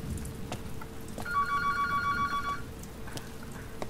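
A telephone rings inside a house in the Dreams PS4 game Sanity, with a steady electronic tone lasting about a second and a half over faint background hiss.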